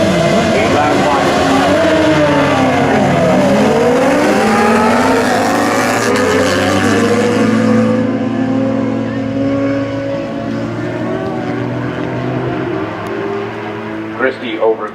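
Superbikes race on the Shannonville Pro Track, their engines screaming and shifting pitch as they pass close by, loud and continuous under a race commentator's voice.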